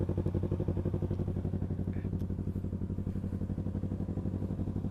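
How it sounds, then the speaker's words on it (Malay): A sport motorcycle's engine idles to warm up on a fine day after rain, making a steady, close, pulsing throb with an even rhythmic chug and no talking over it. "Kita hidupin motor dulu biar apa nah, biar panas ya"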